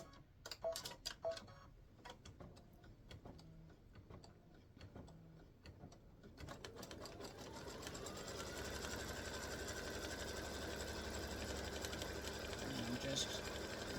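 An embroidery machine stitches down a 9.5-inch piece of appliqué fabric for a football turkey block, a steady rapid mechanical ticking that builds and holds close and continuous, with quiet handling noises early on.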